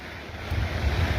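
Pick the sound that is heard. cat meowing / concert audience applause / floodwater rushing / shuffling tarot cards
floodwater rushing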